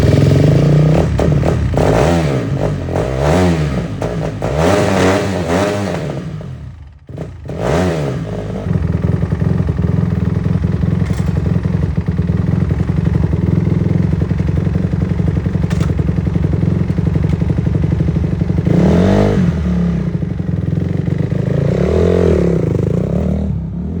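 A dirt bike motorcycle engine after a carburetor rebuild, cranking and catching with clattering bursts, then running loud and close with repeated revving swells, a brief dip midway before settling into a steady rough idle.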